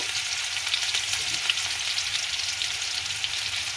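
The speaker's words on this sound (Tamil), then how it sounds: "எண்ணெய் நல்லா கொதித்து வந்துட்டு இதுக்குள்ளே நாங்கள் இடித்து வச்சுருக்கிற இஞ்சி உள்ளி பேஸ்ட்டை போடுறோம் அது நல்லா வதங்கி கொண்டு வருகிறது" Ginger garlic paste fries in hot oil with a steady, dense sizzle that stays close and constant throughout, with no voices.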